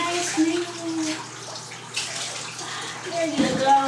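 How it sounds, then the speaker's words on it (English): Water pours and splashes in a bathtub while soap is rinsed off a small child, a steady close wash of running water with a brief louder splash near the end, under a voice talking. "We're gonna get the soapy water off of you."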